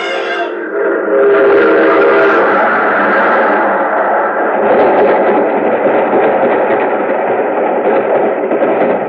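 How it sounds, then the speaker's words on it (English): A steam train whistle blows loudly and continuously as the train approaches, with the rumble of the engine underneath, staged as a sound effect in an old-time radio detective drama. "There's a train coming."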